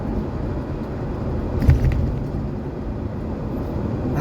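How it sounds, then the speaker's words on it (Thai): A vehicle overtaking a sugarcane truck bound for a sugar factory, heard as a steady road rumble and engine drone with a brief louder whoosh midway as it passes. "แซงรถก่อนพี่น้องเอ้ยรถแก้อ้อยไปโรงงานน้ำตาล"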